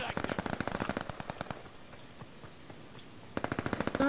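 Rapid bursts of pistol fire in Call of Duty: Vanguard, a fast string of sharp cracks, a short lull with scattered softer shots, then another quick volley close up.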